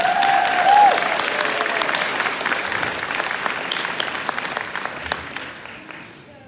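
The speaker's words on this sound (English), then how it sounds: "A big vote of applause and a warm welcome." An audience at an Irish traditional music fleadh for under-12 performers breaks into warm, sustained applause that swells early, then slowly fades away, with a brief voice near the start.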